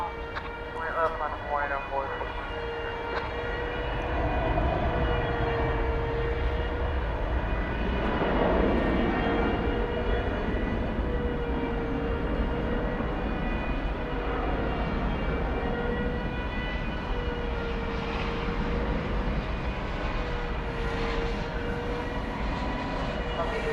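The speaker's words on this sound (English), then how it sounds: "You're hearing that sound in the background is an air start." An aircraft air start unit runs on the ramp at Dallas Fort Worth airport at night, a steady, loud droning whine with sustained tones that continues throughout while someone talks over it.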